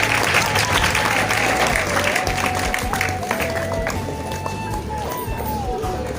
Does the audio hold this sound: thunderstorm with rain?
no